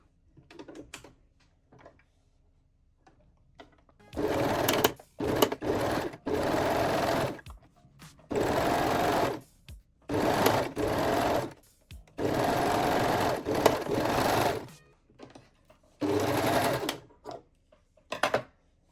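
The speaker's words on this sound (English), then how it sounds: "Take your panties and we will sew the center back." A sewing machine stitches the center back seam of lingerie panties, running in several steady whirring bursts of one to two seconds each, separated by short pauses and light handling clicks, close by with no voices.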